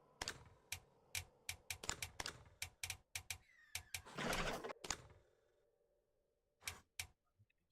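Bird calls in the dinosaur hunting video game Dino Hunter, short sharp chirps repeating in a quick irregular series with a brief noisy burst midway, faint and close, no talking.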